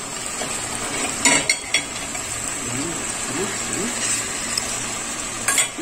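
Chicken stew ingredients being stirred in a pot over a steady low sizzle, with a spoon scraping and clinking against the pot a few times.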